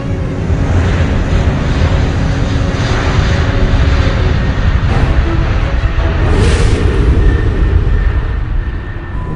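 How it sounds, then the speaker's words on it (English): A fixed-wing airliner roars loud and steady through its takeoff run, a dense broadband engine rush with jet whine that holds level throughout, no voices present. "Flight 209er, you are cleared for takeoff."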